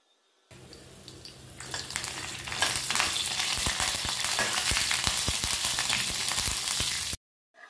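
Mustard seeds and curry leaves hitting a spoonful of hot oil in a pan for a Konkani bitter gourd pickle, bursting into a loud, crackling sizzle with sharp popping seeds that builds and stays steady before cutting off abruptly.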